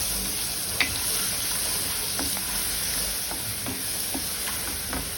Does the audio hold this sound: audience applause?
no